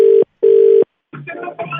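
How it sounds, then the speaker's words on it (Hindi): An outgoing telephone call rings back through the handset with two steady electronic tones separated by brief silence, then a voice begins talking over the line. "मैं फोन कर रहा हूँ आपके हस्बैंड"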